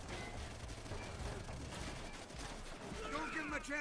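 Scattered gunfire in Call of Duty: World at War, a WWII shooter battle, crackling in a dense, noisy mix under voices and battlefield din rather than standing out as distinct shots.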